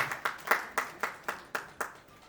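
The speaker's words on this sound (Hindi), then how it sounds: "जोरदार ताली।" Audience at a Lions Club installation ceremony claps in a series of seven sharp, evenly spaced bursts, moderately near and fairly faint, with no talk over it.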